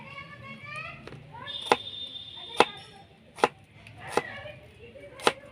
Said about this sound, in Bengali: একদম কুচি কুচি করে কাটতে হবে